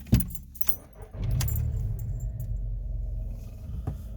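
A 1.2-litre VW Polo with 117,000 miles is started: a sharp click and key rattle, a brief cranking, then the engine catches and settles into a low, steady idle close by.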